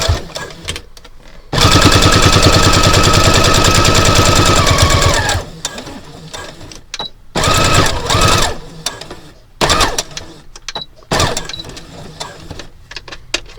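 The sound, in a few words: sewing machine back-stitching fabric for card wallet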